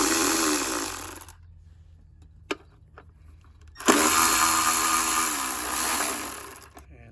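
A power tool spins out 10mm timing cover bolts on a Toyota 4.7L V8 in a Sequoia or Tundra: two long, loud whirring bursts, close by, separated by a quiet gap with a few small clicks.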